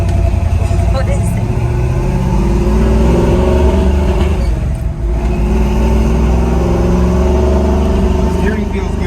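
A 1972 Chevrolet Nova drives with its engine droning loud and steady from inside the cabin, rising slightly in pitch at times, while someone talks over it.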